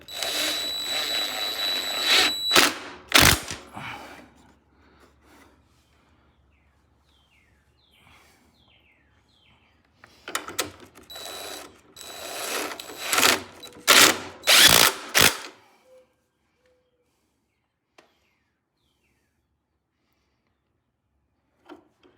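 Bolts being tightened with a ratchet on the steering of a Troy Bilt TB30R riding mower, giving bursts of rapid clicking and clanking metal at the start and again in the middle, with quiet gaps between.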